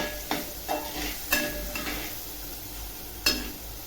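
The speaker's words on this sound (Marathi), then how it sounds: "आता हळद आणि मीठ टाकते आणि चांगले आले असं परतून घेते" Tomato masala with turmeric and salt is stirred and sautéed in a pan for moong dal khichdi, giving a steady soft sizzle broken by a few scraping stirs of the spoon, with no talking.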